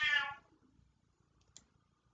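A small female house cat gives one short, clear meow close by, followed by faint soft clicks in a quiet room.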